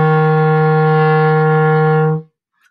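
A single low F held on a clarinet, a steady, loud and reedy tone lasting about two seconds before stopping cleanly.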